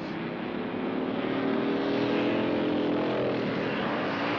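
Several 1953-era racing motorcycles roar together on the final lap of a race, a dense, steady engine drone with shifting pitch as they run close by, with no talking.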